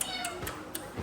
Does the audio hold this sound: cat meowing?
yes